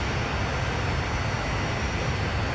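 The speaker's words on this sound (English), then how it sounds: "There's the lovely sound of a jet." A jet aircraft roars overhead near East Midlands Airport in the Transport Fever game, a loud continuous broadband rumble and whine holding steady with no voices.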